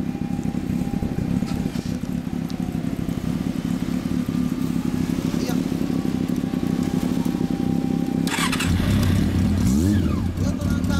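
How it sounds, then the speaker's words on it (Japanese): A Kawasaki Z400FX motorcycle with a Moriwaki exhaust idles with a steady, close engine note and then revs up sharply near the end, while people talk over it. "オッケー、エンジンを聞かせてもらえる？"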